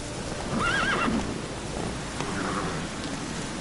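Roach, the horse in the video game The Witcher 3: Wild Hunt, gives a single close whinny, with steady rain and soft hoof clops continuing underneath.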